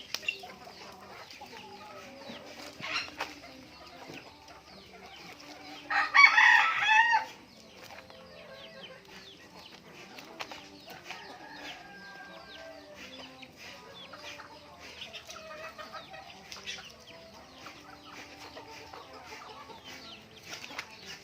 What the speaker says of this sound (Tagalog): ito yung sinasabi ko na binigay sa akin ng ng mama ko na manok